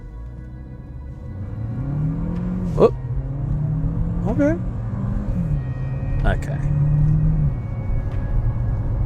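Mitsubishi ASX 1.3 litre small SUV engine revving up from a standstill, rising and falling through gear changes, with a couple of brief remarks spoken over it.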